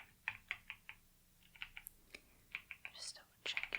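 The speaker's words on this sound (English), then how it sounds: "I just have a few last things to type into my computer." Soft tapping on a computer keyboard comes in short irregular bursts of keystrokes, close and quiet, with faint whispered speech interspersed in a calm fitting-room setting.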